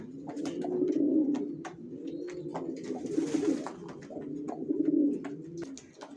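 Racing pigeons, a young banded and vaccinated pair, coo steadily in low repeated throaty phrases close by, with faint chirps and clicks scattered over the continuous cooing.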